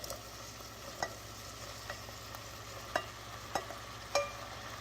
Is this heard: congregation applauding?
no